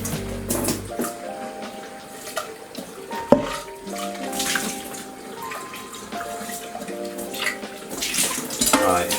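Warm water runs from a kitchen tap over dishes in a sink, a steady splashing stream with clinks and knocks of crockery, close by and moderately loud throughout.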